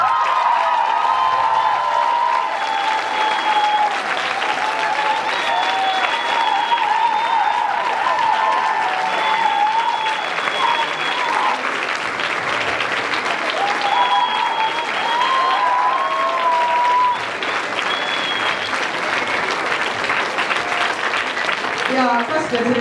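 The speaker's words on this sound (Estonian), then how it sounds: "Ja Kasper sai endale kõvasti plaksutada." An audience gives a long, loud round of applause at a performance by an Estonian pipe ensemble. The dense clapping stays steady, close and sustained for over twenty seconds without a break.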